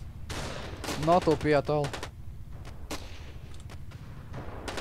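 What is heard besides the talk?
shotgun gunfire in the video game Battlefield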